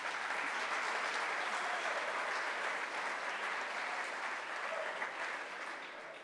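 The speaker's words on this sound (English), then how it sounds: "A round of applause for me because I'm not shy anymore" Sustained applause from a conference audience at the end of a talk on containers, a dense steady wash of clapping that holds loud throughout and eases slightly near the end, with no voices over it.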